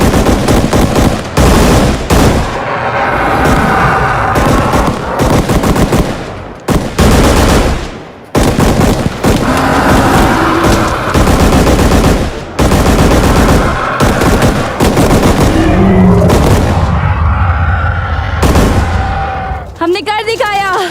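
Rapid loud bursts of machine gun fire from an action film, repeated volleys and staccato rattles with short pauses, mixed with shouted dialogue and dramatic score.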